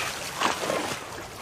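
A quick water splash bursts out in an animated children's story, marking the moment a crab tumbles into the water during a boat race; the single brief splash rises and fades in about a second.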